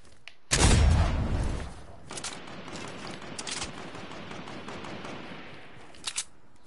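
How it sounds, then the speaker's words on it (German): Sniper rifle gunfire in the video game Fortnite: one loud, close blast that rings out for about a second, then a softer, rumbling tail and a couple of faint crackles later on. "Da höre ich die Sniper."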